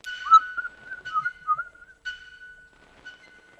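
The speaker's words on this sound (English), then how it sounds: "And whistle." Whistling into a mouthpiece in the video game Kentucky Route Zero: a thin, clear tone wavers in short phrases, then settles into steady sustained notes with small gaps, heard alone in a quiet setting.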